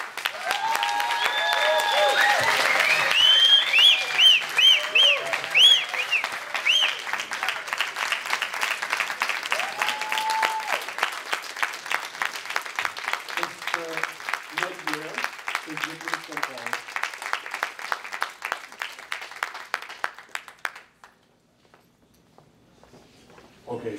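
An audience at a foundation tribute event applauds loudly and steadily for about twenty seconds, with a few cheers and voices rising early before the clapping thins and stops near the end.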